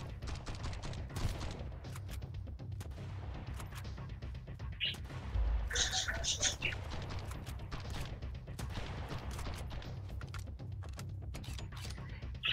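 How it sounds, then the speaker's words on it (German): Gunfire in the Sunkenland survival video game: a short burst of shots rings out near the middle of the clip, set against a constant low in-game hum with faint mechanical noises. "irgendwer hat mich gerade von der Seite angeschossen"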